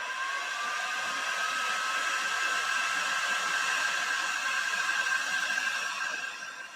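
A heat gun blows hot air onto a part of an Arrma Felony RC car, making a steady, loud whirring roar with no talk for about six seconds before it tapers off.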